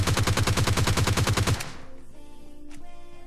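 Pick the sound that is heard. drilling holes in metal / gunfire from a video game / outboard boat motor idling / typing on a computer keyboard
gunfire from a video game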